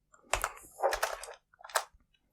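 Keys clack on a computer keyboard in a few short bursts of typing, crisp and close, separated by brief pauses.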